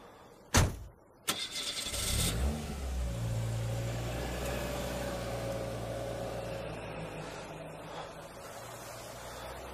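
Car door slamming twice near the start, then a car engine starting up and a steady engine drone as the car drives away, with no talk.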